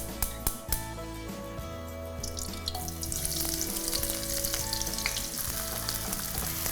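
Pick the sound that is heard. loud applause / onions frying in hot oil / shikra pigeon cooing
onions frying in hot oil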